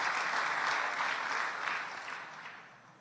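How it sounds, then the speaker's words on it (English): Audience applause for a speaker launching a bid for Ohio governor, a dense, steady wash of clapping from a large crowd that fades gently toward the end, with no talk over it. "Give these people who have shaped and touched my life in different ways a big round of applause."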